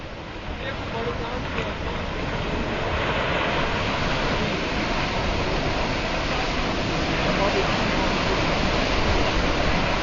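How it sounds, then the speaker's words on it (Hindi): A flash flood surges down the Kanchenjunga valley in India, water carrying rocks in a continuous, loud, dense roar that swells slightly and never pauses, with faint voices beneath it. "कंचनगंगा में चट्टानों के साथ ये सैलाब आया"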